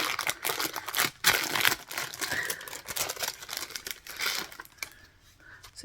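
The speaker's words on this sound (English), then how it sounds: "So excuse me if there's some crinkling" Packaging crinkles and rustles up close while a dress is pulled out of it, with irregular crackling bursts and a few sharper crunches that fade toward the end.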